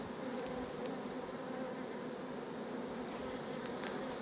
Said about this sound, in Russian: А вот тут на солнышко, ну-ка посмотрю, как пчелики летают.